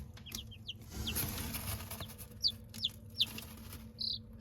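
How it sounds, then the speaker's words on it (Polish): Young chicks peep in several short, high chirps, a few closer and louder ones standing out over a faint background rustle, with no talking. "zobaczcie ile kurczaków się zrobiło z dwóch"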